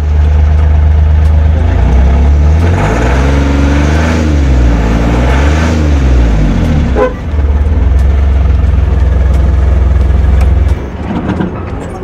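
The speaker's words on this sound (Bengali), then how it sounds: "আপনার গাড়ির সাউন্ড শুনে নেন কেমন রয়েছে" A second-hand Ashok Leyland Dost light truck runs at idle close by, a loud low diesel rumble whose pitch swells and dips mid-way, with a brief tap near the end before the engine note steadies.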